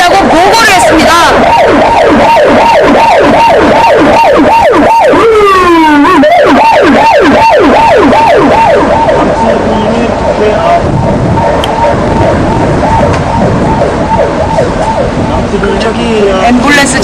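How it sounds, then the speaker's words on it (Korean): An ambulance siren wails loudly and continuously in a fast rising and falling sweep, close by and then fading as it passes on a street outside the National Assembly. "저기 앰뷸런스 지나갔어."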